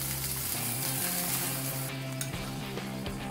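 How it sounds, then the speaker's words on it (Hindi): Boiled sweet corn kernels stir-fry in melted butter in a pan, giving a continuous close hiss and crackle under music. "ये इसमें हमने बॉईल किया हुआ कॉर्न हम इसमें ऐड करेंगे और इसे थोड़ा सा स्टर फ्राई कर लेंगे।"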